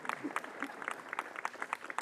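Scattered, uneven hand claps from an audience at the ribbon cutting ceremony for the historic Kirksey Old Main building, a few sharp claps repeating loosely over a faint room murmur.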